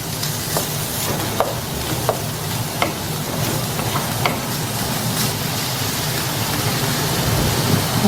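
Chopped onion sautéing in a pan until translucent for ampalaya with shrimp in oyster sauce, giving a loud, steady sizzle with occasional clacks of the utensil stirring, and no talking.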